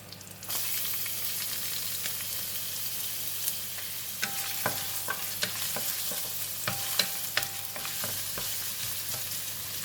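Ginger dropped into hot oil in a pan while cooking a cauliflower chickpea curry, sizzling steadily with a spoon scraping and clicking against the pan at intervals.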